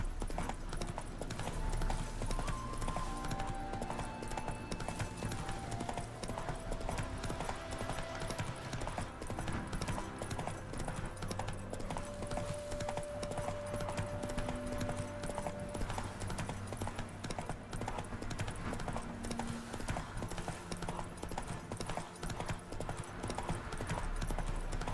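Roach, a horse in Witcher 3, gallops in a steady, fast clip-clop rhythm of hooves, close and continuous throughout, with faint game ambience beneath and no clear talking.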